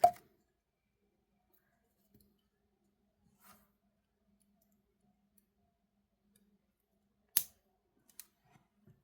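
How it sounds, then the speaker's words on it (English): Scissors snip bead thread with a couple of sharp, close clicks separated by long near-silent pauses, with faint small handling ticks in between. "Snip it off and back."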